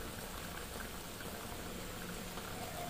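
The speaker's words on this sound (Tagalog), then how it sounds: "Kunting kulo na lang." Pork steak simmering in a pan, a steady, faint bubbling and sizzling hiss with no pauses throughout.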